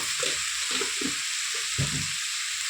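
Cucumber and dried fish curry sizzles in a pan while being stirred, a steady bright frying hiss with several soft scraping strokes of a spoon turning the pieces, close and clear with no talking.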